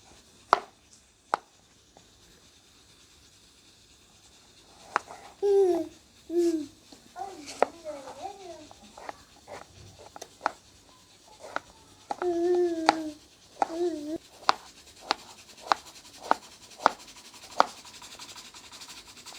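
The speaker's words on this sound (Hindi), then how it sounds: "अब टमाटर काट लेंगे।" Knife chopping tomatoes on a cutting board in a home kitchen, a run of sharp evenly spaced taps, close and crisp, with a voice talking in between.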